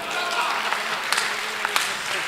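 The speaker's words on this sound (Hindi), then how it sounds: "ताली इस बात पर मत बजाना, ताली मेरी बात अच्छी लगे तो बजाना" Short burst of audience clapping at a Hindi poetry recital, a dense roomful of hands patting steadily with a few sharper claps standing out, no talk over it.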